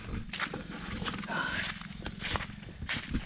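A car engine rumbles low and steady on a road beside a forest, heard outdoors under scattered footsteps and faint voices.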